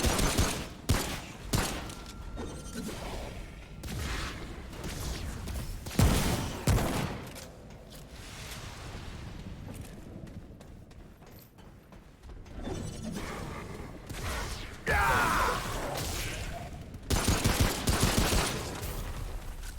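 Shotgun blasts in the video game Remnant: From the Ashes ring out in several separate bursts, loud sharp reports spaced across the stretch with quieter gaps between them.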